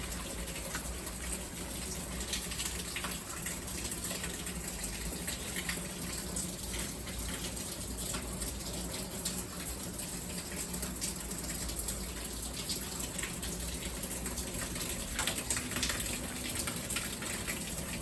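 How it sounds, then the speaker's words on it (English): Water gushes steadily from an open-ended pipe inside an old abandoned mill over 200 years old, a continuous, fairly faint rushing wash that holds unchanged for the whole stretch with no voices. "How is all that water coming out of there?"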